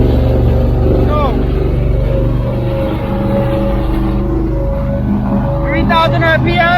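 Donzi speedboat on its first sea trial with new 1200 hp engines and a 6-blade prop, running at a steady loud drone with deep engine hum and rushing water throughout, with a voice speaking over it.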